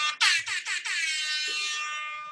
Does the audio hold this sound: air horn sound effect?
yes